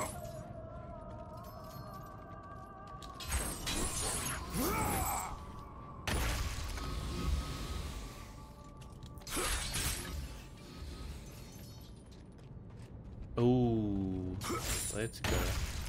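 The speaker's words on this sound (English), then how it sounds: "See, with the smashing of the crates, they just started doing it now, right?" Breakable crates splintering in God of War Ascension, several separate crunching bursts spread among grinding, ratcheting game mechanisms, with a player's voice heard at times.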